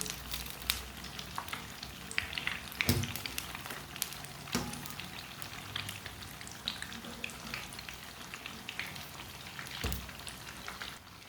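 Lentil tikki patties made with a little wheat flour frying in a pan in a small amount of oil, with a steady close sizzle and scattered crackling pops throughout and no talking.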